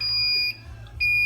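A home fire alarm panel sounds during routine monthly testing, emitting steady high electronic tones that drop out briefly mid-way and then resume, loud and close with no talking.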